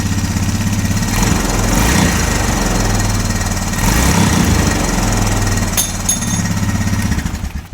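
A 2004 Honda Recon ES ATV engine idles loud and close after a valve adjustment, a steady rapid chugging with a regular rhythmic pulse and no talking.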